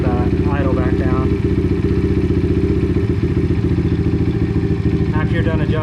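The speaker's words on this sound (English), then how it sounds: "adjust the idle until it's where you want it" Apollo DBX18 125cc dirt bike with an upgraded carburetor idling close by, a steady, loud low chug that runs unbroken throughout.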